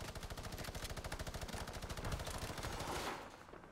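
Rapid gunfire in Fortnite, a fast, even stream of sharp shots for about three seconds, loud and close, with no talk over it.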